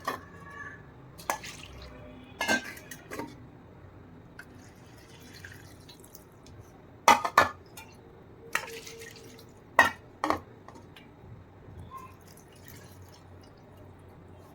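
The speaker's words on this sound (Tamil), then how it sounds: "ஊற வச்சுட்டு அது வடிகட்டிக்கணும்." Soaked sesame seeds are strained, with water dripping off them in sparse, irregular drips and a few light clinks against a quiet background.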